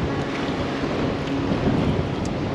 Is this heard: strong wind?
yes